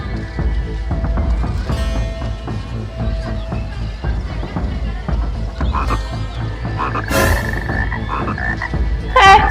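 A crowd of frogs croaks loudly from a soup pot in dense, rhythmic overlapping calls throughout, mixed with other scene sounds and a brief sharper noise near the end.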